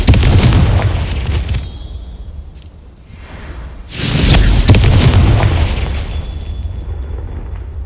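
Booming blasts of the Confringo fire spell in Hogwarts Legacy, two loud explosive bursts with rumbling tails, the first opening the clip and the second erupting midway after a brief lull.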